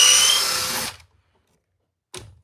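A cordless drill drives a screw into timber, a loud whirring burst that cuts off abruptly, then silence and a brief second spin.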